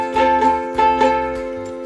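Ukulele strummed in a down, down, up, down pattern, four bright chordal strokes ringing close and clear with no voice over them.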